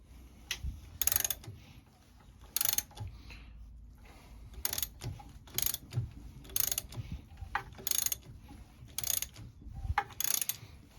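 A ratchet turns a VQ35DE engine over by hand, giving bursts of rapid clicking at irregular intervals, a handful of separate pulls, close and fairly quiet over faint mechanical creaks, with no talking.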